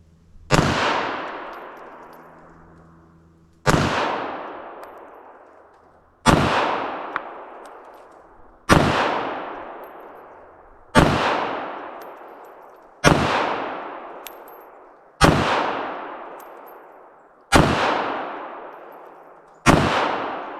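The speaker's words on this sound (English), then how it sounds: "Let's fire off some rounds." Ten sharp, loud pistol shots from a Bodyguard 2.0 .380 ring out one by one at a slow, even pace about two seconds apart, each with a long echoing decay and no talking in between.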